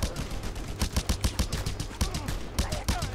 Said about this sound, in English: Stop shooting at Pang, you dick!